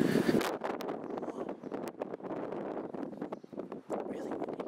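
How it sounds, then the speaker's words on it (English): Strong wind buffets the microphone in rough, continuous gusts as a storm approaches, with rumbling bursts and faint rustling, no voices. "It did get really windy."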